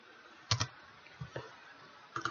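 Fingers tap an Excel formula on a computer keyboard, a handful of close, quiet clicks in uneven clusters with short pauses between them.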